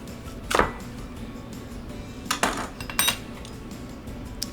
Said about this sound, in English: we're gonna cut and core 4 apples